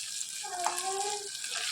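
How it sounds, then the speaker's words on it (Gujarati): Tomatoes go into dal frying in a pan, giving a short, steady sizzle with a soft hiss that stays close and fairly quiet throughout. "હવે એમાં ટામેટાં નાખી દઈએ."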